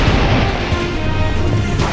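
Long-range artillery bombardment in the God Eater 2 game lands as a dense, rumbling barrage of booms and crashes, loud and continuous for a couple of seconds.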